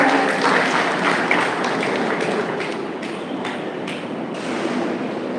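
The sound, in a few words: audience applause at a ceremony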